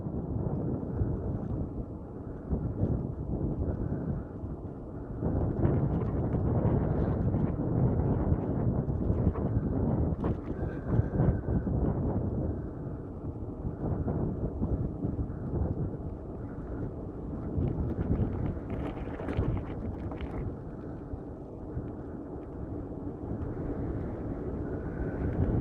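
Cold wind blusters continuously against the microphone during a winter eBike ride, a constant low rumbling roar with gusty swells and no clear voices.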